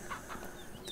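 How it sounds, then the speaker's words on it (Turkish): Chicken clucking in the farm video game Ranch Simulator, a few short soft clucks spread through one second over a low steady background, fairly quiet. "Şöyle buralara gelen bir tavuk görmüştüm."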